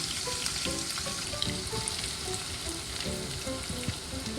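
Sliced onions and carrots fry in oil in a pan, a steady close sizzle with light stirring scrapes and small pops throughout, no voices.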